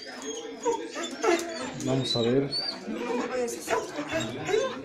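Many of thirty-one dogs kept in an apartment bark, yip and whimper just before being fed, with steady close talk over the top of the noise.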